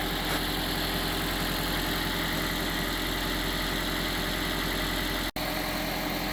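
A first-generation Toyota Prius engine idles steadily after starting during a quick service, a constant close rumble with a faint high whine and no talk.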